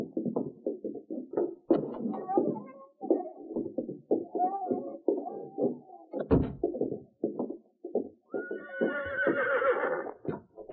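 A horse snorts and stamps in a 1947 Lone Ranger radio drama, with hoof clops and knocks scattered throughout. A long, high whinny rises near the end, all fairly close and clear.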